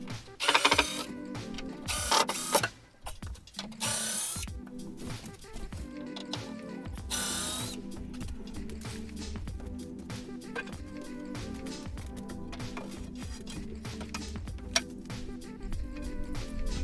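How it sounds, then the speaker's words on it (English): Screws backed out of old shed materials: steady, close ratcheting and clicking of a driver, with a few louder scraping bursts at the start, running continuously for many seconds without talk. "just like these screws I'm removing."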